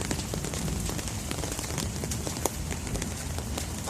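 Rain falling in a backyard garden with banana plants and flowers, a steady hiss of drops with scattered sharper splashes and taps close by, with no voices.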